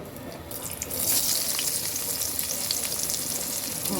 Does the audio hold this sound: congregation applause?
no